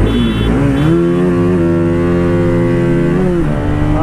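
A Bajaj Pulsar RS200 motorcycle accelerates hard during a drag race, its loud, close engine note climbing in pitch through gear changes with a continuous buzzing roar and no speech.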